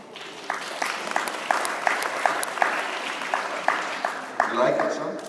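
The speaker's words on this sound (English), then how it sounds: "be so kind and give an applause to something you never saw before" Applause from a conference audience after a speech in Shanghai, moderately loud with sharper bursts of clapping standing out from a steady background of claps; a voice is faintly present.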